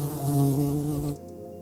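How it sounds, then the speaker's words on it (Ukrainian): A loud, steady droning buzz of a fly close by, holding for about a second before dropping away to a quieter hum. "це не бджола, це муха."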